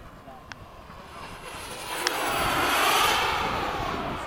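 An Ultra Flash model turbine jet at half throttle gives a steady, airy whine and rushing roar that swells louder toward the middle as it passes, with faint wind noise around it.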